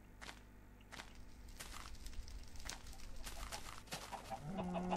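Chickens in Minecraft clucking in short scattered bursts over a quiet background, with soft footstep-like taps and no clear speech.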